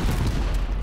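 Gunfire in the video game Forsaken, a dense burst of rumbling, booming shots that fill the whole moment with loud, continuous low-heavy blasts.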